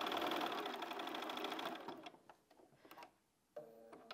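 A sewing machine stitching Ohio Star quilt block rows together, a fast steady whir for about two seconds, then stopping into scattered clicks of handling before a short restart, close and soft.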